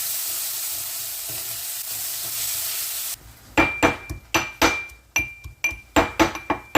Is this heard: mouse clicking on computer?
no